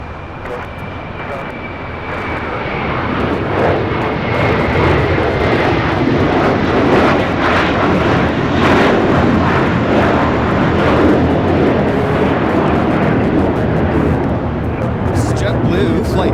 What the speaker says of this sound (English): Flight 624 taking off to JFK on the A321 Material Girl